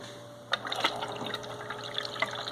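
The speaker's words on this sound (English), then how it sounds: "let me turn the filter back on so you can see how it will change the outflow a little bit here" Water pouring from an aquarium overhead filter's outflow into an angelfish tank as the filter switches on, a sudden onset followed by a steady splashing trickle that runs on alone.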